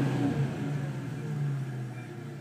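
A 2000 Ford Crown Victoria sedan's engine revs up and holds, a steady low mechanical drone that slowly eases off toward the end, heard close and alone.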